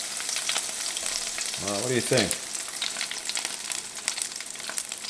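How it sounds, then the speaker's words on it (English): A seared chuck roast sizzles steadily in a pan with a constant crackling hiss, and one person briefly speaks partway through. "I love that sound of that sizzling, you know?"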